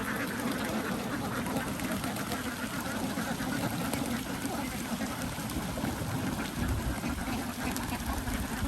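Many egg-laying ducks quack continuously in a crowded pen on a duck farm, a dense, close chorus with a murmur of water and background noise running underneath.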